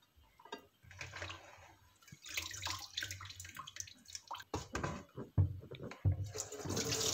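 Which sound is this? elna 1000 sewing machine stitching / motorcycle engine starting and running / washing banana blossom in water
washing banana blossom in water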